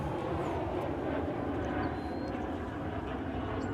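A departing airliner at Dallas/Fort Worth climbs out in the late afternoon, its engines a steady, loud broadband roar that holds evenly throughout without voices.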